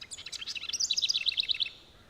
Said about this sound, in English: Birds and wildlife add a tranquil soundtrack to the beauty that stretches in every direction.